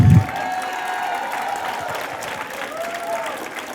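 Audience applause for graduates at a 2024 graduation ceremony, a steady wash of many hands clapping that sounds moderately close, opening with a brief thump and running with light crowd noise.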